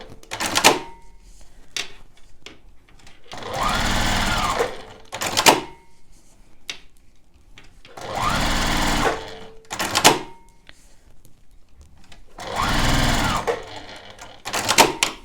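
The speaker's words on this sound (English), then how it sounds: "start by doing a line of quilting about 1/8 inch from the seam" Sewing machine quilting straight lines on a quilt-as-you-go panel, running in three separate bursts of about two seconds each with quiet handling clicks and thread pulls between them, close and fairly loud.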